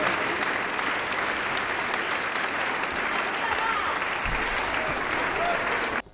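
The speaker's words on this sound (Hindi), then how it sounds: "जोरदार ताली से स्वागत करें भाई गोपाल पांडे और भैया" Strong, sustained audience applause at a patriotic Hindi poetry recital greets poet Gopal Pandey, an even roar of many hands that continues unbroken for several seconds and cuts off abruptly at the end.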